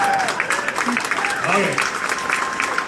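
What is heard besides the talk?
audience applause and cheering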